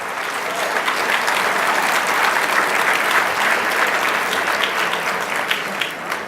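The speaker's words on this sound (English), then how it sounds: "Please, let's give them all a round of applause." Sustained, dense audience applause fills a hall during a mayor's State-of-the-City address, loud and steady throughout without speech on top.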